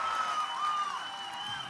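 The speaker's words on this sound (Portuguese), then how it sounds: "uma salva de palmas" Crowd applause fills a presidential housing-handover ceremony in Imperatriz, a steady, dense wash of many hands clapping that holds at an even loudness for the whole short stretch.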